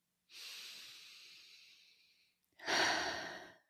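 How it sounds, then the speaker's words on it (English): Two deep breaths close to the microphone, a long airy inhale that fades out, a brief pause, then a stronger breathy exhale, with no speech. "Close your eyes and breathe in deeply."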